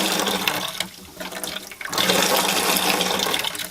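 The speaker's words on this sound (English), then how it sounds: "look at that great muddy water" Muddy water gushes loudly from an outdoor tap as the pipes are flushed before winter, a steady rushing stream that dips briefly in the middle before surging back at full force.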